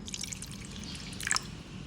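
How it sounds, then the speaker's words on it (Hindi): Water is poured onto raw liver in a kitchen to clean it, making faint splashing and dripping sounds with a small burst of droplets partway through. "कलेजी में पानी डालूँगी।"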